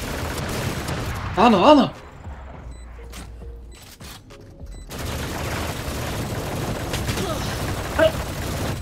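Video game shooter gunfire cracks in a short burst early on, followed by quieter in-game effects and a later single shot, with players talking over the action.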